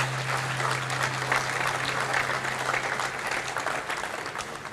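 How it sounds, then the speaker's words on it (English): An audience at the inauguration of a photography festival in Delhi applauds the organisers, with dense, sustained clapping from a crowd indoors that holds steady and tapers slightly near the end, plus a low steady hum underneath. "a round of applause for both of them"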